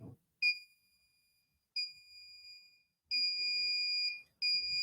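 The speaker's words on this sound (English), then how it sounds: "alarm detected, okay?" A fire or smoke alarm under test on an embedded device sounds in repeated loud, steady electronic tones, bursts of varying length separated by short silences, with faint background voices between them.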